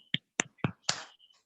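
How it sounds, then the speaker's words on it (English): A few sparse hand claps from an online audience, four sharp separate hits spread over a second and a half, fairly close and alone, with a faint tone running under them. "Yes, I can hear those claps"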